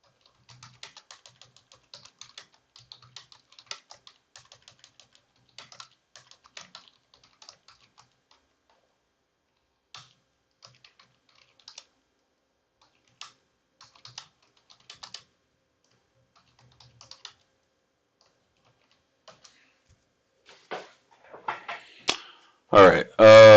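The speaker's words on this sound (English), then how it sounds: "Let me type something out." Computer keyboard typing in short irregular bursts of key clicks, close and fairly quiet, with a voice talking near the end.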